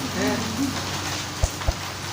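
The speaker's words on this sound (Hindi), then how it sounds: "हाँ बारिश हो रही है" Steady rain patters across a surface, with a couple of heavier drips landing close by and faint tonal hum underneath.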